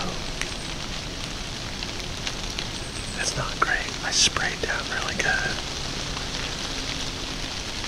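Steady rain patters across a deer hunting stand beside an Ohio cornfield during a bowhunt, a soft continuous hiss with a few sharper drops, under quiet whispered talk.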